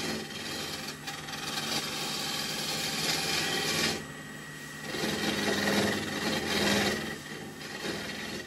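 A gouge cuts a square wooden spindle spinning on a lathe, sliding along the tool rest and producing a continuous loud, rough shaving and whirring sound that swells and eases in long passes.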